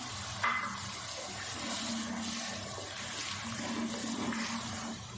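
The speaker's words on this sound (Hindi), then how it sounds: "थोड़ा सा पानी डाल देते हैं।" Water poured into masala frying over low heat for a fish curry, the pan's sizzle and liquid splash running steadily and close for about five seconds, with no voices.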